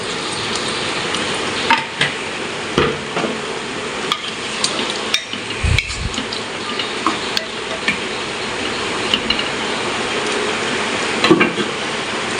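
Water poured into a hot pan of dried fish sets off a loud, continuous sizzling hiss close by, broken by scattered clinks and scrapes of utensils against the pan, with no talking.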